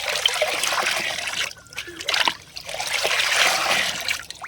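Liquid fertilizer poured and stirred in a bucket, with a steady close trickling and splashing of water that briefly pauses and then resumes, no talking.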